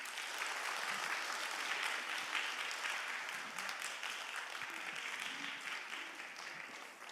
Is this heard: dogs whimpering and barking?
no